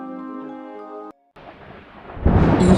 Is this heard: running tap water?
no